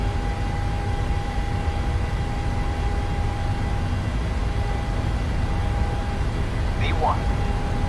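A PMDG 737-800's jet engines roar steadily during the takeoff roll in Microsoft Flight Simulator, a loud broadband rush with a sustained whine and brief chirps near the end, as a voice talks over it.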